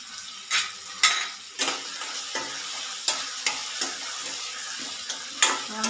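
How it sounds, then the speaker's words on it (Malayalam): Egg curry masala with salt being stirred in a pan, a spoon scraping and knocking in repeated strokes over a low sizzle, close and clear with no talk. "നല്ലവണ്ണം ഒന്ന് മിക്സ് ചെയ്ത് ഒന്ന് മൂടി വെച്ച് കൊടുക്കാം"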